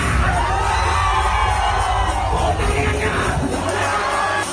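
A dense crowd cheers and shouts continuously, loud and close, with whoops rising above the steady roar.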